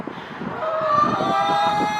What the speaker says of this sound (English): We have a chicken in the box.